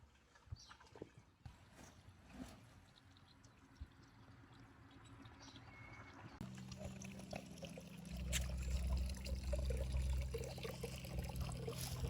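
Water pours steadily into a backyard stock tank pool, a continuous low rushing that grows louder and fuller partway through, heard close with no talk over it.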